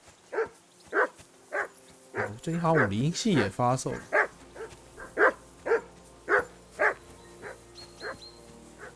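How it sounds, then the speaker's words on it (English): A dog in Kingdom Come: Deliverance II barks in a steady run of sharp, evenly spaced yaps that carry on under someone speaking over the game. "Jesus, Henry, that barking's driving me nuts. Can you get your dog to shut its beak?"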